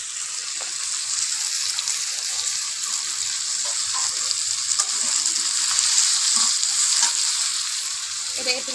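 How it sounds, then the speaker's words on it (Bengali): Katla fish head and potatoes fried and stirred in spices in a pan, giving a dense, continuous sizzle with soft scraping stirs throughout. "এটাকে একটু নাড়িয়ে তারপর আমি জল দেবো, লেগে লেগে যাচ্ছে।"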